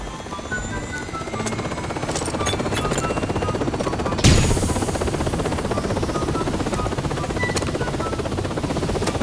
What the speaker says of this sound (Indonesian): Helikopter udah berisik.